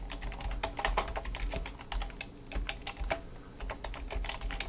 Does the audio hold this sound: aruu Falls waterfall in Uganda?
no